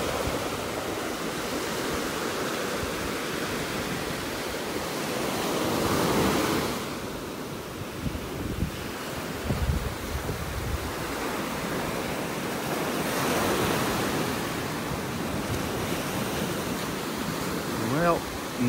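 Surf washes steadily onto a beach in North Naples, Florida, with broadband rushing swells building and fading over several seconds, fairly close and continuous, mixed with some wind.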